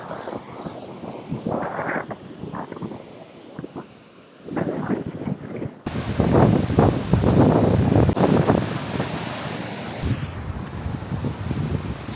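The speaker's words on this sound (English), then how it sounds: "Look at these waves." Ocean waves surge and break at Boca Prince beach on Aruba, with heavy wind buffeting the microphone throughout; the surf swells louder midway and keeps rolling steadily, with no voices.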